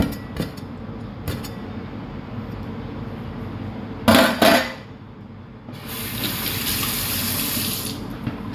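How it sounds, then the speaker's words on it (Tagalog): Sihi, small sea snails, washed under a running kitchen tap. A short splashing burst comes first, then a steady close hiss of flowing water that continues to the end. "Hugasan po natin mabuti ang ating sihi."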